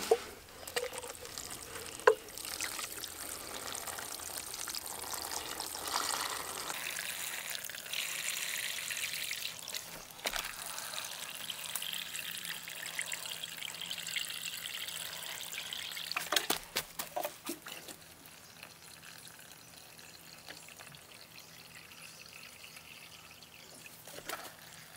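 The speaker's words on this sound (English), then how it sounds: "now I'm going to go ahead and fill it up with water" Water poured into a worm bin in a garden, a steady trickling and splashing fill that runs for several seconds, then trails off into quiet with faint background hiss.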